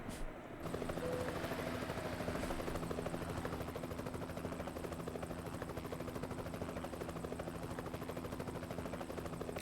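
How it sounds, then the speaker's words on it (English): Helicopter in the Euro Truck Simulator 2 game, a steady loud rotor thrum with rapid chopping pulses and a low engine hum, continuous throughout and no talk. "that's a helicopter."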